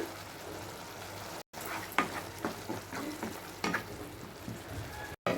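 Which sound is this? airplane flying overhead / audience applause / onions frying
onions frying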